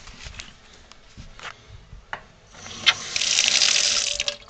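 A kitchen faucet under repair runs steadily into the sink, a soft hiss of flowing water that grows louder and brighter toward the end, with light clinks and no talk.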